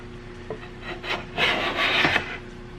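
Close, quiet rasping strokes of a blade shaving wood, a few short scrapes followed by two longer, louder passes, each taking off a thin amount.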